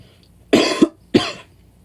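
Two sharp, close coughs from one person, the first with a quick double burst, followed by a brief pause and a second single cough, in an otherwise quiet room.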